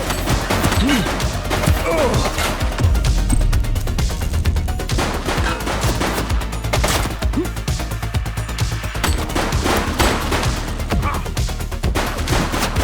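Gunfire from a suspect in The Precinct police game rattles through the whole scene as a dense, continuous fusillade of overlapping shots and bursts, loud and close against busy background noise.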